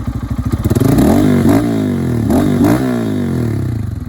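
A new budget commuter motorcycle with an aftermarket exhaust is revved hard up close, two rising and falling throttle blips over a throaty idle, loud and a little raspy.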